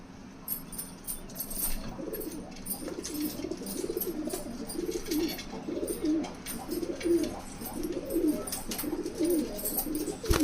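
A male pigeon coos repeatedly in a steady rhythmic series of soft, low throaty calls, close by, with no talk over it.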